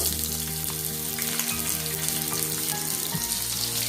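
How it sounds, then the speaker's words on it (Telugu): Mustard seeds, cumin and medium onion sizzle in hot oil, a dense continuous frying hiss with steady low hum beneath, constant and close, without any talk. "ఆయిల్ హీట్ అయిన తర్వాత అర్ధ స్పూన్ ఆవాలు, అర్ధ స్పూన్ జీలకర్ర, 1 మీడియం సైజ్ ఆనియన్,"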